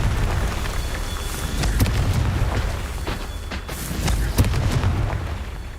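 A Confringo explosion spell in Hogwarts Legacy bursts in loud, booming blasts, with sharp impacts rising out of a rumbling, crackling din and no talking.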